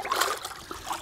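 A rabbit pelt is dipped into a bucket of water, giving a brief close sloshing splash and trickle of dripping water.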